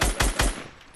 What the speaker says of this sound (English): I'm shooting at this man